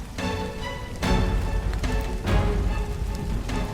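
Steady rain patters and hisses on a surface, with a few louder splashes and no voices.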